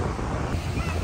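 Strong wind rushing across the microphone with a low rumble at a beach in Pensacola, Florida, surf likely in the background, brief and fairly faint.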